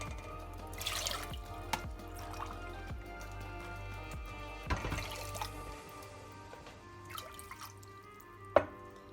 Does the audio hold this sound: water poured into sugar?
yes